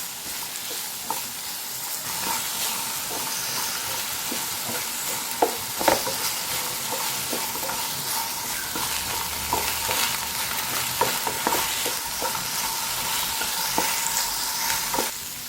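Okra stir-fried in a pan, a soft steady sizzle running throughout with scattered scraping clicks of a spatula stirring, fairly quiet and close, with no talk.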